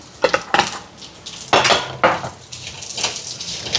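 Potatoes and dried Maldive fish mixed in a pot, a spoon scraping and clanking against the metal in several irregular strokes with a light sizzle beneath, close up and without talk.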